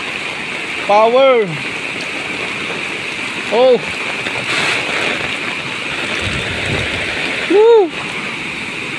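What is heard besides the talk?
flooded river rushing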